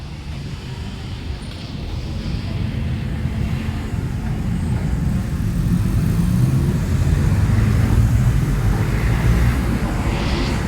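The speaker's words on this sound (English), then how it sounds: "zooming on this truck right there to see if we can hear the engine noise." A truck engine rumbles out on a street, a low steady drone that swells gradually louder over the span, mixed with broad traffic noise and no talk.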